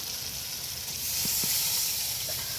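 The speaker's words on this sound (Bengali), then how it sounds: "এবার দিয়ে দেবো জুসের জন্য অল্প জল।" Potatoes and fish frying together in a pan give off a continuous close sizzle and hiss as a little water is added, swelling slightly midway, with no talk.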